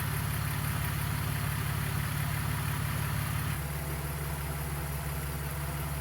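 A BMW E46 engine idles steadily at close range while the car is left running after a ZF 5HP19 transmission service, a continuous low even drone with a slight shift in tone partway through.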